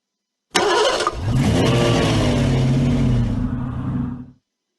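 Wheelie's cartoon car sound from the Ballyland game's right arrow key: an engine cranks and catches with a sharp start, then revs up and holds a rising, steady rumble for about three seconds before fading out, loud and close.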